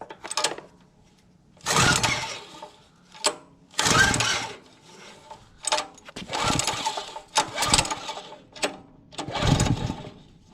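A Power Stroke generator's small engine is cranked repeatedly, giving bursts of sputtering pull-start effort separated by short pauses, near and loud, without catching into a steady run.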